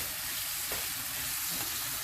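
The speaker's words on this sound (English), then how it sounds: "So you see that sizzling right there?" Squash blossom quesadilla filling sizzles steadily in a hot frying pan, a dense continuous hiss with faint stirring scrapes, close and even, no voices.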